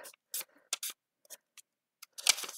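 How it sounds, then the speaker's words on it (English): A paper circle is folded in half while making a DIY tulip spinner fidget toy. Short, crisp crinkling bursts come in several close, separate handling sounds, then a longer rustle at the end. "I'm going to fold this in half"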